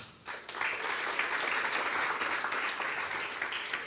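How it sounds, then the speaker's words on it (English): A crowd applauds steadily, a dense wash of clapping that holds at an even level for a few seconds. "A round of applause, please."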